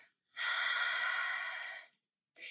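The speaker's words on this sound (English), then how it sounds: "We're going to take a nice deep breath in to reset the breath." One long, deep breath is drawn and released slowly during a breathwork exercise, close and soft, followed by the start of another short breath.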